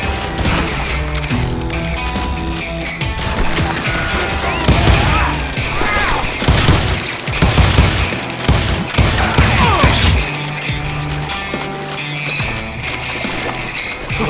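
Gunfire from the Western shooter Call of Juarez crackles through a loud, busy mix of music and effects, with heavy volleys clustering around the middle as a voice shouts over the action.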